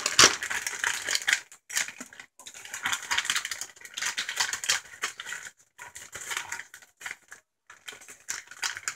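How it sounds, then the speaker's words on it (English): A plastic bag of shredded cheese being cut open and handled while cooking a cheesy beef and potato dish: close, irregular crinkling and rustling with short crunchy bursts and brief pauses, with no talking. "I'm gonna put the camera down for a second so I can cut the bag open."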